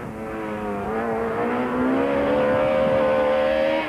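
A 1995 Volkswagen rally car drives a stage, its engine droning loudly and steadily. The pitch rises and shifts as it accelerates along the road.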